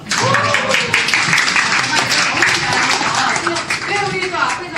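Audience clapping at a book launch event for a journalist's book, steady dense applause running throughout with voices talking over it.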